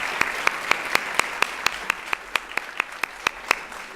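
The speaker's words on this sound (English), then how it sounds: "Let's give them all a round of applause." Applause with sharp claps landing at a steady, even pace, about four per second, clear and fairly close against a faint background hiss.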